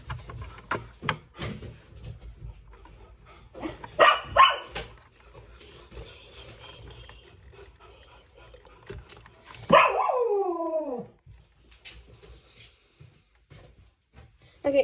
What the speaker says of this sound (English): sorry guys for the noises, it's my dog